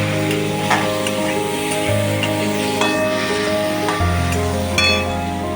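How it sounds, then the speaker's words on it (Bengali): Potato and pointed gourd pieces frying with turmeric in a pan, a steady close sizzle with faint stirring scrapes and background music, no talking. "লাল লাল একটু ভাজা হোক, এই হলুদ দিলাম, এটা ভাজা হোক"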